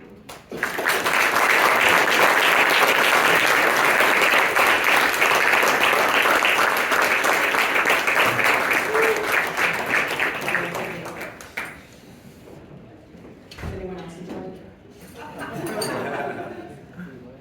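A crowd at the Young Conservatives of Texas state convention in Dallas claps loudly and steadily for about ten seconds, then the applause fades out and a voice talks over scattered claps and room noise.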